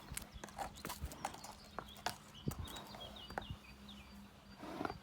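A horse's hooves clip-clop in an uneven walking rhythm during a groundwork training session, fairly close and moderately loud, with a few soft scuffs and no talking.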